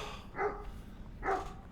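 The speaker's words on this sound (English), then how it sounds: "The dogs are alive." Dogs bark twice, short and moderately distant, with a quiet pause between the two barks over a low background hum.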